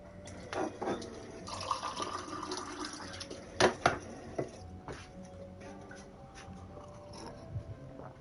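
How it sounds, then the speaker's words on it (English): Water runs from a tap and is poured into a glass at a home desk, a broad steady splashing flow with a few clinks and knocks from the glass, no talking. "Just going to grab some water."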